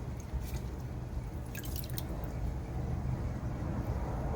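Water drips and trickles from an aquarium part just swished in tank water, soft irregular droplets close by over a steady low background rumble.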